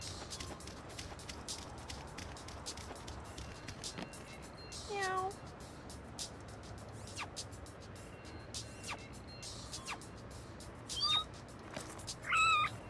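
Short game-style cat meows from No More Heroes, a brief mew near five seconds and a couple more near the end, over a steady low background hum.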